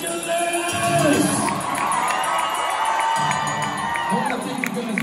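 A huge stadium crowd at a concert in Los Angeles roars and cheers continuously, with whoops and shouts rising and falling, while a voice speaks over a PA.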